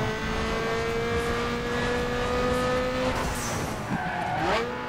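A Mazda RX-7 races in Need for Speed Underground 2, its engine holding a loud steady whine before shifting and rising again, with tire squeal and skidding in the mix.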